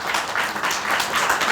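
An audience gives a short burst of clapping to welcome a guest, dense and fairly loud, steady for the whole moment without voices.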